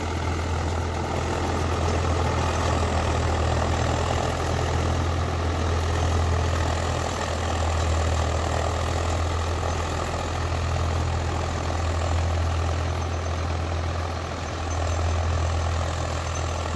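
A Swaraj 744 XT HLM tractor engine running steadily, a loud, continuous low diesel rumble that holds an even throb throughout with no talk.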